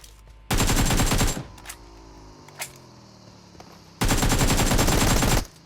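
Two loud bursts of rapid automatic gunfire from a battle royale video game, each lasting about a second, separated by quieter game ambience with a few faint single shots.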